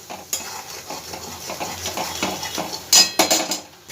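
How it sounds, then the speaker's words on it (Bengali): Poppy seed masala paste frying and being stirred in a pan over a medium gas flame, a soft continuous sizzle with scraping spoon strokes and a few sharper clinks near the end, close by and with no talking. "ভালো করে মশলাটা আমি ভেজে নেব"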